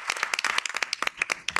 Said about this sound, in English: Give Sandra a big round of applause.